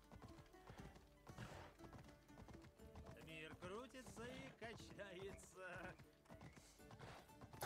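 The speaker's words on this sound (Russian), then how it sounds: "Разойдись по сторонам, огненный конь скачет." Horse hooves clip-clopping at a gallop in the video game Assassin's Creed Odyssey, a steady rhythmic pounding under game music, with someone talking over it.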